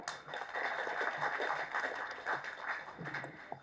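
Audience applause at a Tamil film OTT platform launch event, a dense steady wash of many hands clapping at moderate level throughout, with a faint voice here and there underneath.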